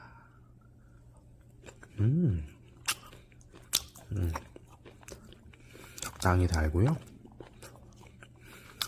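A bite of homemade walnut pie, its walnuts crisp, chewed close to the mic in a few crunchy bursts between a person's speech.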